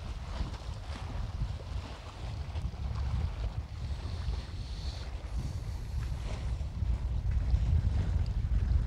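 Wind-driven waves washing steadily on Chembarambakkam lake, a constant rushing wash with heavy wind buffeting the microphone and no speech.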